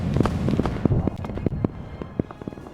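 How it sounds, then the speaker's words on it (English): Anti-aircraft guns fire in the Starship Troopers video game, a scattered run of sharp cracks and thumps at an irregular pace, some hits louder and closer, trailing off toward the end. "Oh, yeah, there's the AAA firing."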